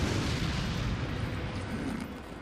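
A Garrador burning in Resident Evil 4, a dense, roaring crackle of fire and rumbling bursts that holds loud and steady, then eases slightly toward the end.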